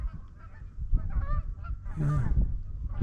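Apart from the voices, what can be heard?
geese honking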